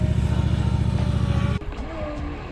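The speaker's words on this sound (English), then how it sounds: "And there appears to be a very loud engine behind me." A loud engine drones nearby beside a pond where a small RC speedboat is being tested, a steady throbbing rumble that cuts off abruptly partway through, leaving quieter outdoor noise and faint whirring.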